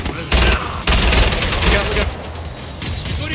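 Rapid gunfire fills a Killing Floor 2 boss fight against Hans Volter, loud close bursts of shots in quick succession with short pauses between volleys, dense and continuous.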